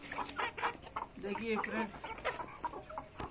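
Chickens cluck steadily nearby as they are fed from trays at a hatchery, with overlapping short calls throughout and someone speaking briefly over them.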